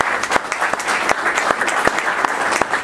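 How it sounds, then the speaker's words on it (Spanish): An audience at a talk on the hydrogen economy applauds, steady close clapping with sharp individual claps standing out, loud and continuous throughout. "Y vamos a un saludo y un aplauso más."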